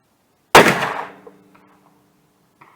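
A single .357 Magnum revolver shot fires a 180 grain hard cast bullet over Lil'gun powder, a sharp loud crack with a short ringing decay, followed by faint clicks and quiet afterward.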